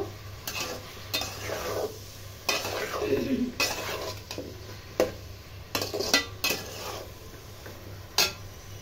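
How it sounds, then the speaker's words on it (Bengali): Mango pickle ingredients fry in a pan for a sweet, sour and spicy pickle, with steady sizzling and repeated scraping and stirring clatter of a utensil against the pan, close and moderately loud with no talking. "ভালো করে একটু ভেজে নেব।"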